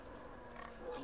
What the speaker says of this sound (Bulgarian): свиня такава, моля ти се, не ме докосвай.